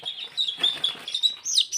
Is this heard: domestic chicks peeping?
yes